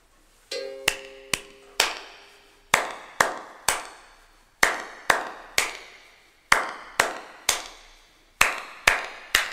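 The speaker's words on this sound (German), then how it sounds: "du kannst einfach klatschen. Dreimal." People clap their hands in time with a rhythm, sharp close claps falling in short repeating groups with brief pauses between them.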